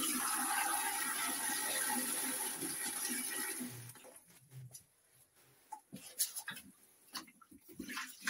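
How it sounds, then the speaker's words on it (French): Water poured from a bucket into a PVC drain pipe gushes steadily for several seconds, then trails off into scattered drips and splashes. "donc on va remettre de l'eau, simplement, avec un seau."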